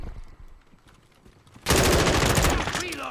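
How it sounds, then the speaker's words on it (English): Automatic gunfire in Call of Duty: Modern Warfare II erupts suddenly partway through, a loud sustained burst following quieter game ambience and brief talk. "shooting a gun is disorienting in this game"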